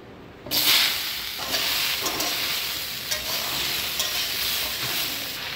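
Prawns frying in a little oil, a loud steady sizzle and hiss that bursts up as they hit the pan and carries on evenly, close, with occasional stirring scrapes and no talking.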